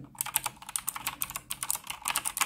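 Rapid typing on a mechanical gaming keyboard at a home PC setup, a dense run of crisp, clacky keystrokes with brief pauses, close and clear with no voices.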